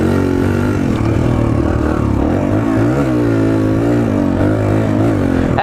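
A Suzuki DR-Z 125L motorcycle engine revs hard during a wheelie, a loud, close, sustained buzzing drone whose pitch rises and dips as the throttle works, with no talk.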